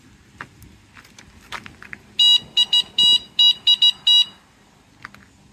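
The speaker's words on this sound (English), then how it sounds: "Such a cute little horn." A small electric horn on an ENGWE X26 e-bike beeps in a quick run of short high-pitched toots, loud and close, with soft handling noises before and after.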